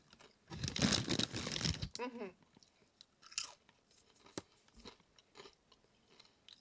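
Dill pickle flavored Pringles chips crunched and chewed close up, a burst of crisp bites followed by softer, irregular chewing crackles, with a short stretch of voice-like sound between them.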